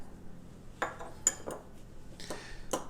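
A utensil stirs dry ingredients for a keto fathead pizza dough, including almond flour, in a bowl, giving a few soft scrapes and light clinks against the bowl, close by and quiet.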